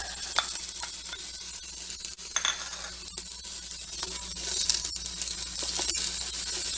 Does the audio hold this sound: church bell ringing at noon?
no